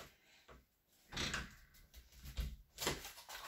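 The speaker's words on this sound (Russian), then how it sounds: "дверь не открывается" A door is tried but will not open, its handle and frame giving a few sharp rattling knocks and thuds in separate bursts, close by and fairly loud, with no talk.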